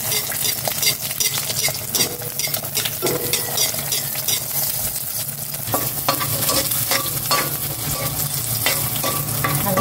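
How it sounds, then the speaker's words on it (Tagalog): Garlic sautéing in a pan with a little oil gives a continuous close, loud sizzle, overlaid by repeated scraping and clattering stirs of a utensil against the pan, with no one talking. "Nagigisa na po ako ng bawang."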